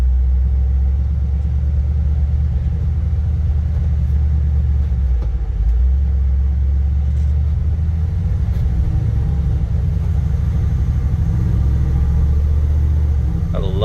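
A 1971 Chevrolet C/K 10 pickup engine drones low and steady during a test drive, a constant close rumble from inside the cab with slight shifts in pitch.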